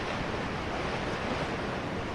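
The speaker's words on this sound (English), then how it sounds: "the water flows from that top rocky ridge inward to hit the bottom rocky ridge that's near us" Ocean waves surge against rocky ridges in a continuous, broad wash of surf, loud and close, with wind-like rushing throughout and no voices.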